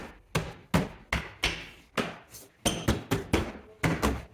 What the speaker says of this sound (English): line it up into place, work our way around, snapping all of the plastic clips